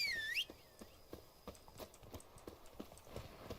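Roach, the horse in the video game The Witcher 3, walks with regular clip-clop hoofbeats at a moderate pace, fairly faint, after a brief high whistling tone at the start.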